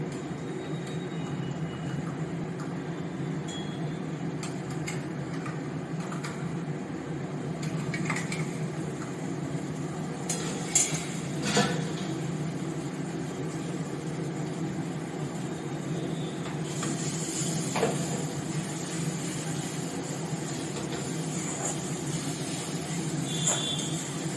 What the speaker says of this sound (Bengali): আদা রসুনের কাঁচা গন্ধটা যতক্ষণ না যাচ্ছে একটু ভালো করে ভাজবো